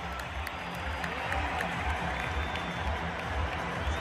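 A stadium crowd that is filling up claps in a dense, continuous patter, with cheering and crowd murmur mixed in, heard from among the spectators.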